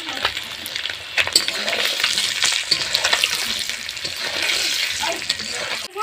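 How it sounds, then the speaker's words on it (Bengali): Egg frying in hot oil with turmeric, a continuous close sizzle with occasional scrapes and stirring clatter against the pan. "এই যে বন্ধুরা আমার ডিমটা ভাজা হয়ে গেছে আর অল্প একটু হালকা ভাজবো। এবারে আমি হলুদটা দিয়ে দেবো"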